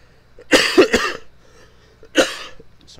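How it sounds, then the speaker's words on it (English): Two separate bursts of coughing, a quick double cough near the start and another single harsh cough later, fairly close and loud with quiet in between. "Sorry, still coughing a bit."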